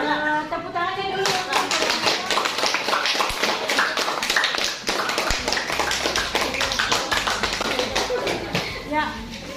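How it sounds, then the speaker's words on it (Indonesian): A classroom of students applauding after a group presentation, loud dense clapping from many hands sustained throughout, with a few voices in the mix. "kalau tidak ada, tepuk tangannya dulu"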